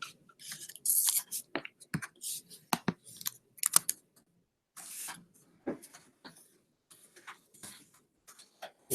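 Fingers tap away at a real computer keyboard in an office-hours setting, irregular bursts of quick, close clicks separated by brief pauses, faint and alone without talk.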